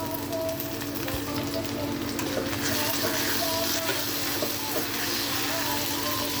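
Onions frying in oil in a pan for an egg curry give a steady, dense, close sizzle and crackle that runs unbroken from start to finish.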